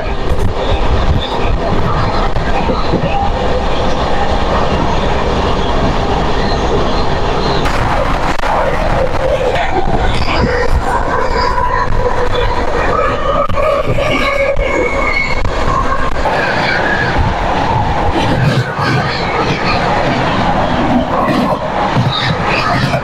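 Inside the Ajmer SF Express passenger train running at speed, a loud continuous rumble and rattle of wheels on track carries on throughout, with faint crowd murmur in the coach.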